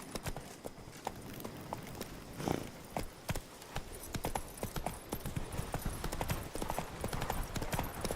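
Roach, the horse in The Witcher video game, trots with steady rhythmic clip-clop hoofbeats, close and continuous under a faint ambient background.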